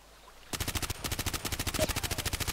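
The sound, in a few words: gunfire from enemy player in Contract Wars video game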